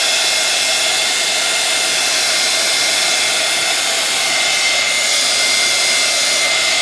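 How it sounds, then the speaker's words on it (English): A heat gun blows steadily on a mixed-media craft project, a continuous airy roar with a broad hiss that holds level throughout with no talking. "now I am going to hit that with a heat gun just a little bit"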